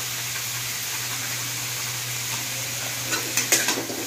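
Soya chunks fry in spicy masala with garam masala for a veg biryani, giving a steady, even sizzle throughout; near the end a few spatula scrapes and clatters against the pan stand out briefly.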